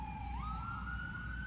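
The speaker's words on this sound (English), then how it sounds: "I'm going to let this ambulance go by." An ambulance siren passing by, its steady wail sliding upward in pitch as it nears, loud and continuous over a low traffic rumble.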